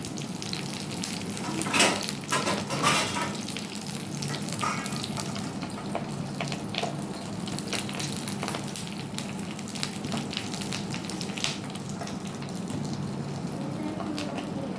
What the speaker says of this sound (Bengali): এইভাবে ঢেকে কিছুক্ষণ আমি এটাকে রোস্ট হতে দেব।